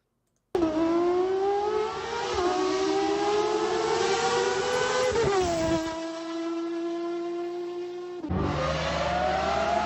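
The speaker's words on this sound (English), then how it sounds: "It sounds like a race car." High-revving race car engine screaming through gear changes, its pitch climbing steadily then dropping at each shift, loud and sustained, with a brief break before it winds up again.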